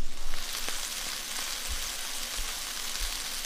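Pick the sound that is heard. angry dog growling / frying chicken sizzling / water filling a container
frying chicken sizzling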